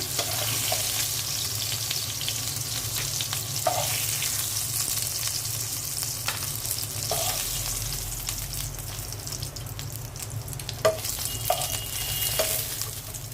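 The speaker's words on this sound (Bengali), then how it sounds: "রুই মাছগুলো ভাজা হয়ে গেছে, এখন আমি উঠিয়ে নিচ্ছি।" Rohu fish pieces frying in hot oil give a steady, dense sizzle throughout, with a few soft clinks of a utensil against the pan and no talking.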